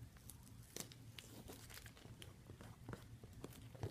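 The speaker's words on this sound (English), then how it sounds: "we can start peeling this basically right away." Siser Easy Weed heat transfer vinyl being peeled warm off a medicine ball after heat pressing, giving a quiet, soft crinkling and tearing that runs continuously with small crackles.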